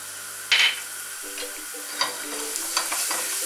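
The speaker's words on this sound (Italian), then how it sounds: "In questa padella ho aggiunto due cucchiai abbondanti di olio d'oliva. Arrivata a temperatura aggiungiamo l'aglio e lasciamolo dorare qualche secondo." Garlic fries in olive oil in a pan, a steady sizzle with a sharp stirring scrape near the start and a few lighter clinks and stirs after.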